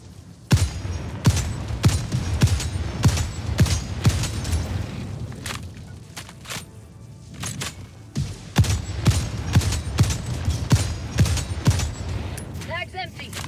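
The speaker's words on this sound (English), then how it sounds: "we have an anti-material rifle here against the Hulk" Heavy anti-materiel rifle shots in Helldivers 2, fired against an Automaton Hulk: a series of loud, booming single reports spaced roughly a second apart, amid battle noise with someone talking over them.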